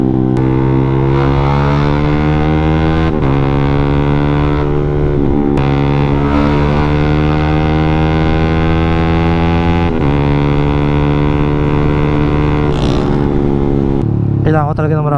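A Yamaha Sniper 155 fitted with an A-Racer Mini X racing ECU tuned by JCP Racing revs hard on a dyno, its engine note climbing through gears with brief dips at shifts, loud and close throughout.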